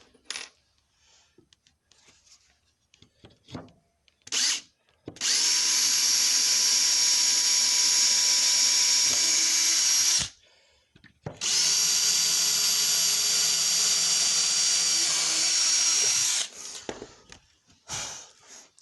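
A power drill bores small holes into a wooden workbench in two sustained loud whirring runs of about five seconds each, separated by a brief pause, with faint clicks and handling noises around them.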